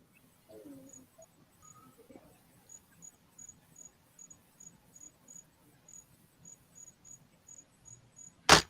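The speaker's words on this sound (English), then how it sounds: "I hear crickets though." Crickets chirp as a sound effect, a steady, regularly pulsed high trill repeating throughout, with a brief sharp burst at the very end and no talking.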